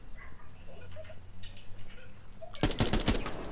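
Gunfire in a shooter game's terrorist hunt mode breaks out suddenly after a quiet stretch of faint background sound, a loud rapid burst of several shots near the end.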